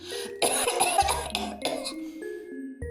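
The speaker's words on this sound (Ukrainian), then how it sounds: "А Хрюша кашляє." A short burst of coughing from a child-voiced puppet character, a few rough hacks close to the mic, with no speech.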